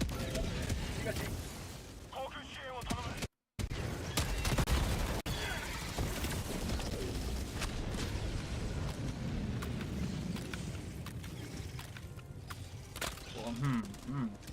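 Automatic weapon fire in Helldivers 2 crackles in dense, repeated bursts amid a busy battle mix of explosions and effects, with brief game voice sounds mixed in.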